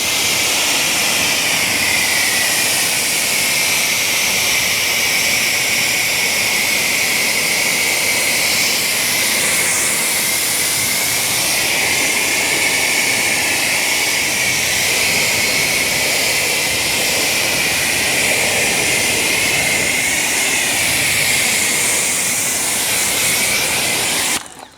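A Ryobi 1.8 GPM electric pressure washer rinsing a GMC truck, its loud, steady hissing spray running nearly nonstop up close and cutting off right at the end.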